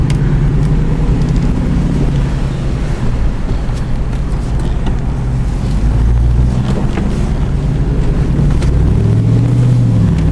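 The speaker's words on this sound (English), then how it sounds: "LS3 is as docile as you can get, just putting around." An LS3 V8 in a heavy Jeep on 22-inch wheels idles and putters along at low revs, a steady low rumble running the whole time under wind noise, with no talking.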